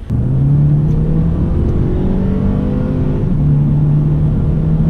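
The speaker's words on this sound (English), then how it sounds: "this car comes with a 2-liter turbocharged engine, so it definitely has a little bit of a kick to it" A car with a 2-liter turbocharged engine accelerates hard, its loud, close drone rising steadily, dipping at one upshift, then climbing again.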